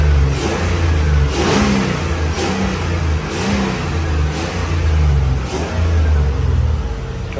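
An LS3 V8 swapped into a 1986 Range Rover Classic roars close by, revving repeatedly in rising and falling surges over a deep, loud, continuous engine rumble.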